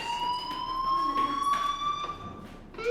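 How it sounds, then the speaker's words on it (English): In Life is Strange, a school fire alarm rings with a continuous, piercing electronic tone at moderate loudness, holding steady for the full three seconds. "do you hear that fire alarm? That means you should be outside."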